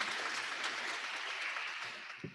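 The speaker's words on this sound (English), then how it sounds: "You can applaud, yeah, if you'd like." Brief burst of applause at a Rotary club hybrid meeting as a member's birthday is announced, a steady broadband patter of clapping that fades slightly toward the end with a faint thump.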